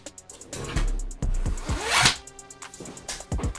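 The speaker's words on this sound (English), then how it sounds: "And I want to take this sticker off of here as well." A protective sticker is peeled off an Umidigi A9 smartphone, giving close, crackling, zipper-like tearing strips and soft handling rustles, with no talk.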